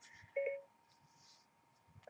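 A phone gives a short electronic notification beep, clear and close, and then a quiet stretch follows.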